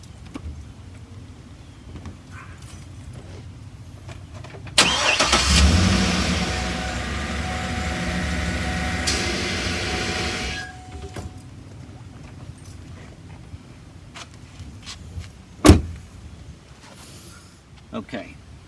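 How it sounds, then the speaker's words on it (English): A GM truck engine cranks and catches, then idles loudly close by for several seconds before settling, with keys jangling, a sharp knock later and faint background noise. "start your vehicle"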